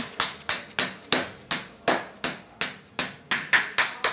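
Steady, rhythmic blows from a soft Kincrome hammer on metal held in a vise, about a dozen sharp strikes evenly spaced, close and fairly loud with a slightly dull ring.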